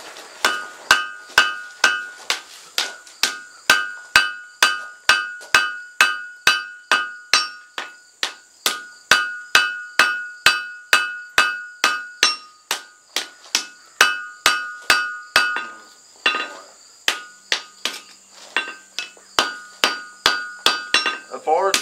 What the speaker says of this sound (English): draw it out of the fire and hammer it together